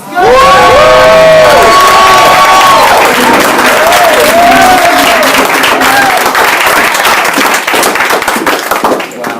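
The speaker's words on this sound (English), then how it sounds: "I want you all to stand to your feet and cheer" A large crowd stands, cheering and applauding loudly as a speaker is welcomed on stage, with whoops and shouts rising over sustained clapping throughout.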